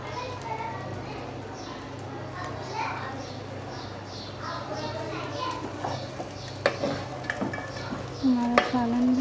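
Chicken and chillies frying in a pan for achari chicken masala, with a soft steady sizzle and occasional stirring scrapes, while faint voices murmur in the background.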